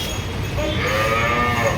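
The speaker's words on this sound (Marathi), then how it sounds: "सोसायटीच्या खाली खूप मोठ्या मोठ्या गायी येतात" Large cows below a housing society moo once in a long, loud, drawn-out call, with a low outdoor murmur behind it and no talk.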